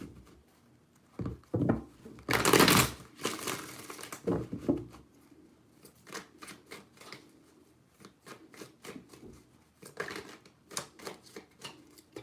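Tarot cards are shuffled by hand in several quick riffling bursts with soft papery flutters and taps between them, close and fairly quiet, with no talking.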